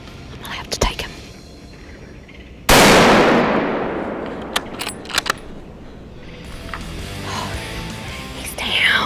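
A single loud rifle shot rings out at a deer during a hunt, sharp and close, then decays into a long echo; quiet whispering, rustling and small clicks come before and after it.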